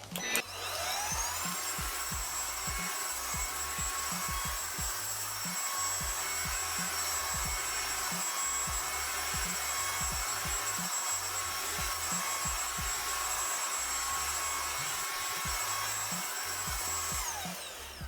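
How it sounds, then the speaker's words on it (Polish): An ILIFE H55 cordless wet vacuum cleaner runs at maximum power, holding one steady high-pitched whine and whoosh for the whole stretch, with a quick ramp up at the start and a wind-down at the end. "odkurzacz w trybie maksymalnym daje radę nawet na takim krótkim dywanie"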